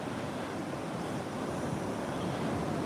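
Tidal water and surf pushing in through an inlet during Hurricane Erin coastal flooding at Bethany Beach, a steady broadband wash of waves with wind rumble on the microphone, continuous and fairly loud with no talk.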